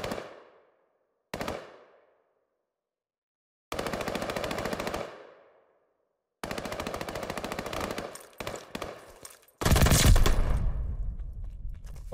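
Bursts of automatic gunfire from a Call of Duty Vanguard match: several short sharp volleys separated by silence, then a longer, louder sustained burst near the end.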